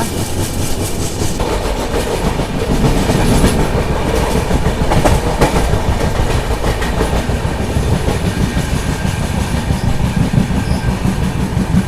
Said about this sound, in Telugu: సో మన ట్రైన్ వచ్చేసి సోంపేటకి అయితే వచ్చింది